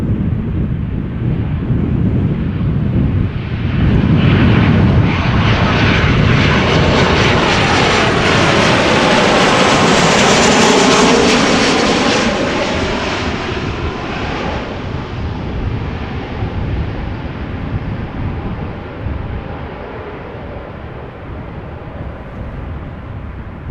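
A passenger jet lands at Amsterdam Schiphol Airport with a loud, close engine roar that swells to a peak and then fades into a long rushing rumble, with wind buffeting the microphone.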